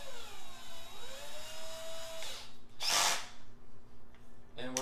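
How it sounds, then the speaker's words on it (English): A power drill whines with a shifting pitch, then bores in with a loud, harsh grinding burst before easing off again. "So we're going to be drilling out this hole right there"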